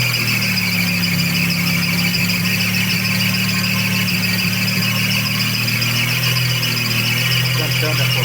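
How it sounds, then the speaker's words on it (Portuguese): Accessory belt on a 1991 Chevrolet Kadett squealing after the engine is started, a loud continuous high-pitched shriek over the steady engine drone, nearby and sustained throughout. "Cantando a correia."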